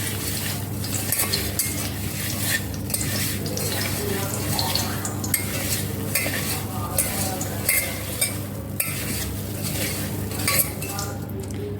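Soybean chunks being mixed by hand with turmeric powder and salt in a kitchen bowl, giving steady soft squelching and stirring over a constant low hum, with faint clinks of utensils and a voice murmuring in the background.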